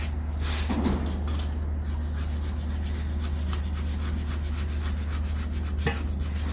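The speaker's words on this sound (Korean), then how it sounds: "사포로 매끈하게 해준 다음에" Continuous rhythmic rubbing of sandpaper on a wooden bathroom door, strokes repeating steadily over a constant low hum, with no talking.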